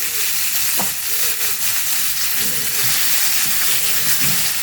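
Tomatoes sautéing in oil in a pan while cooking Kongu-style cowpea and brinjal kuzhambu: a continuous loud sizzle and hiss with faint crackles throughout, steady and close.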